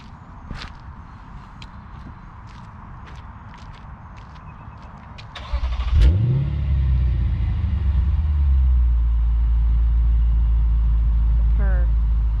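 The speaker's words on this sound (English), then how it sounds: "I'll start it up and give you a few revs." A 2021 Lexus RC F in Fuji trim fires up after a few footsteps and clicks, its engine catching with a loud surge and then settling into a deep, close, steady idle with light revving.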